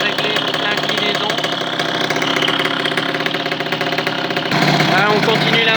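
A hybrid MBK 51 moped running as it warms up, with a steady, loud, buzzing two-stroke drone that holds continuously and grows a little louder and rougher near the end.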